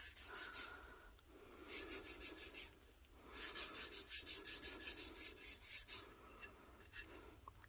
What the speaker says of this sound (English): taking an alcohol wipe and just going over it lightly